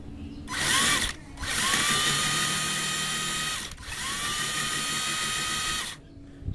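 A Dong Cheng impact driver drives a self-drilling screw into steel angle bar, loud close whirring bursts: one short run, then two longer sustained runs with brief pauses between, little talk.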